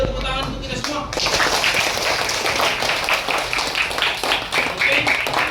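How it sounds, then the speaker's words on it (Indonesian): Classroom audience of teacher-training participants bursts into dense, steady applause after a brief moment of talk, the clapping sustained and fairly loud until the end. "Ayo tepuk tangan untuk kita semua."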